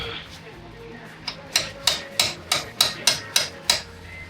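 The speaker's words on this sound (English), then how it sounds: "Better go get my hammer." A hammer strikes metal in a steady series of about ten sharp, ringing blows, evenly spaced and close, each clang decaying quickly, while removing a front coil spring from a Holden HQ-WB one-tonner.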